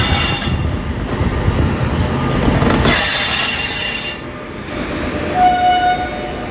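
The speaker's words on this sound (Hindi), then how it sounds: "यह है शताब्दी एक्सप्रेस नई दिल्ली से देहरादून। ये शताब्दी एक्सप्रेस है" A Shatabdi Express from New Delhi to Dehradun passes close by, its railcars rumbling loudly and steadily, with a short train horn tone near the end. No one speaks.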